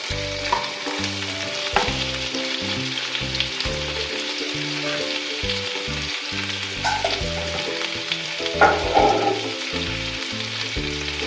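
Ginger-garlic paste and onion frying in oil in a pan for besan dal, a loud continuous sizzle with bursts of stirring and clinks, close and steady throughout, no voices.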